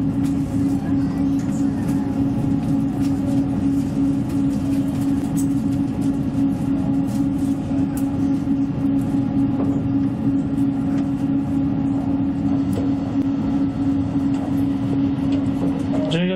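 Steady rumble of an Odakyu Romancecar limited express train in motion with a constant low hum, continuous and fairly loud throughout, heard from inside the car.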